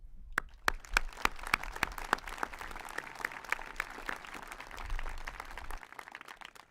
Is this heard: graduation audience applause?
yes